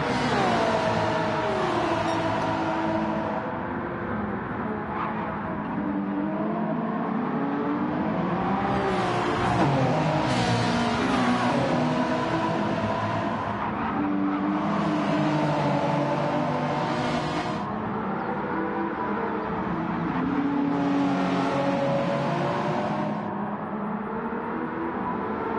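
Race car engines at Monza in a sim racing endurance event, a continuous loud drone with repeated rising and falling revs as cars accelerate, shift and pass one another in traffic, with no voices.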